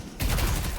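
Haze's gun in the Deadlock video game opening up after a brief quiet moment, a loud, dense stream of rapid shots that runs to the end.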